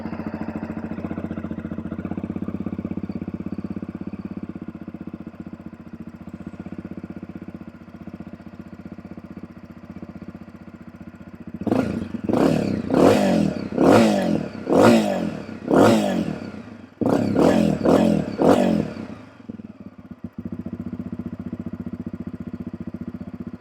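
A 2025 Honda CRF trail bike engine fires up after a steady background hum, then revs hard in a string of sharp, loud throttle blips that cut off and return briefly before settling.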